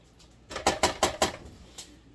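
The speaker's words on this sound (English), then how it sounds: "This is our silicone spatula" A silicone spatula knocks against kitchen dishes and pots during vegetable prep for a pot roast, about six quick, fairly loud clattering taps in a row, then one more lighter knock.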